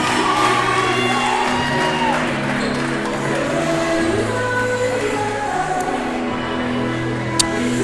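Crowd noise in a high school basketball gym, with cheering, whoops and scattered shouts from cheerleaders and spectators holding steady throughout, a continuous bright din with one sharp clap or bang near the end.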